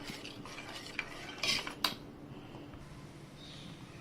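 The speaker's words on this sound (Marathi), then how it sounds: "आता मिक्स करून घेऊया गव्हाच्या पिठाने आणि कस्टर्ड पावडरने" A spoon scrapes and clinks against a pot while milk is mixed with wheat flour and custard powder, soft intermittent stirring taps and a few sharper metallic knocks over a quiet kitchen background.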